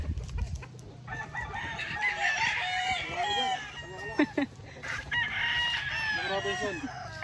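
Chickens and roosters at a Filipino backyard flock crow and cluck continuously, several birds overlapping with long rising crows and short clucks at moderate distance, with faint talk in the background.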